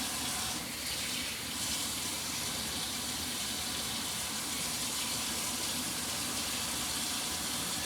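Kitchen tap running water while cooking cheesy Italian shells hamburger helper, a steady hissing gush that holds at an even level throughout, close and alone.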